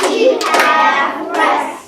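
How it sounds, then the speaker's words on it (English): Children clap together in a second-grade classroom, a short burst of hand claps tied to a rhythm exercise, close and fairly loud with voices mixed in. "Boys and girls, would you please clap and read this rhythm?"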